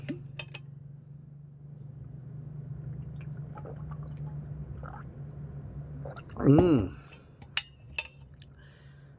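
Someone drinks water from a glass: a clink of glass, then a few quick gulps and swallows up close, followed by a soft satisfied hum and another light tap of glassware.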